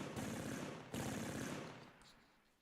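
A tank gun firing in Armoured Commander II, two quick sharp blasts in succession, each trailing off into a fading rumble, fairly faint overall.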